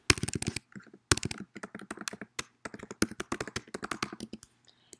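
Typing on a computer keyboard, close and crisp, with rapid bursts of key clicks broken by short pauses and a few heavier taps, alone without talk.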